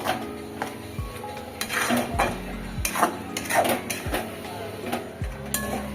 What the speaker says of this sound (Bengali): কিছুক্ষণ নাড়াচাড়া করে যেতে হবে এইভাবে কনস্ট্যান্ট।